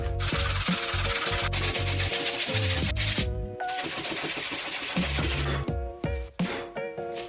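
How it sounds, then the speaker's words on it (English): A ding on a PU foam surfboard is sanded with 80 grit sandpaper, heard as loud, steady rasping strokes with short pauses and uneven bursts toward the end. ".80 grit sandpaper."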